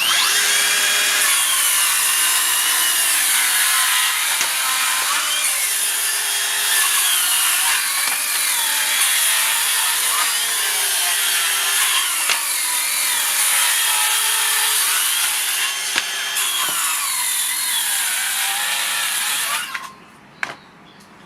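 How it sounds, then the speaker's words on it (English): A Makita 40V circular saw cuts through three stacked layers of 20mm old pine, a loud, close, sustained whining buzz with shifting pitch as the blade bogs and strains, running nearly twenty seconds before spinning down and stopping. "I'm going to be cutting some of this shitty old pine I've got laying around"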